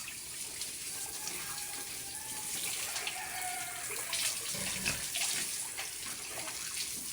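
Water running steadily from a tap or hose while pet pigs are bathed, a continuous splashing rush with slight swells and a few louder spatters midway, heard close and without talk.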